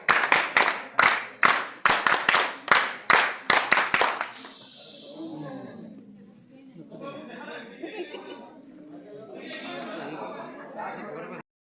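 An audience performs a rhythmic rocket clap at a teachers' gathering, about a dozen sharp unison claps in quickening succession followed by a rising whoosh and mixed cheering, chatter and laughter.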